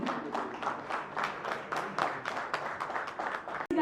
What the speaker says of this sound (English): All right, everybody, big round of applause for the entire team.